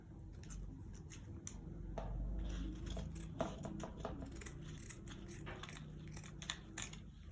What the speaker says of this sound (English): After folding again, then cut out your pattern.